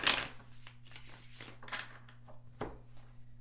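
Tarot cards are shuffled by hand, giving a soft, continuous riffling and flicking with a few sharper snaps, close up over a low steady hum.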